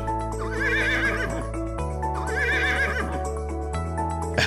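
Cartoon horse gives two long, loud whinnies with a wavering trill, one after the other, over a steady bed of music with faint hoofbeat-like accents.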